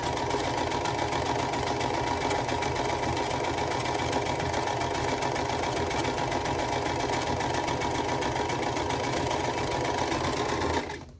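A sewing machine chain piecing quilt blocks runs in one continuous, steady fast whir for about eleven seconds, close and loud, then stops abruptly at the end.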